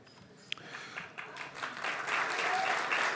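An audience at a media awards ceremony breaks into applause that starts thin and swells into full, dense clapping filling the hall.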